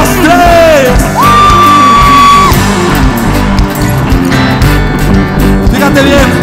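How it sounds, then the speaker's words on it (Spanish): A huge crowd at a religious gathering in Estadio Azteca yells loudly and continuously, a roaring wall of voices with a few shrill whistles cutting through. "tú vas a dar tu grito más fuerte para el Señor"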